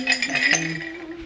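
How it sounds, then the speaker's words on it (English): Ice cubes clink and rattle into a glass at home, set out for serving punch, a quick bright clatter that rings briefly and then settles, close up and alone. "Get some ice cubes in it."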